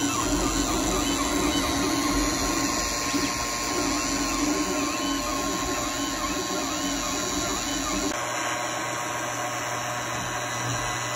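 A 3D printer prints the screw holes of a front panel for a BMW M8 GTE replica sim racing wheel, giving a close, steady whine with stepper-motor buzzing and tonal warbles, changing pitch partway through.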